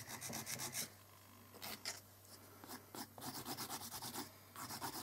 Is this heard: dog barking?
no